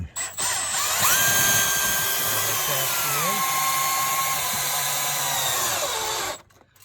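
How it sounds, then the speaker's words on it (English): A power drill whines steadily at close range for several seconds, its pitch dipping briefly under load before it spins down and stops. "So with this new drill, you can get right in there"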